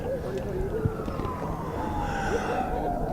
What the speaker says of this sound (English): Got an ambulance on Route 11.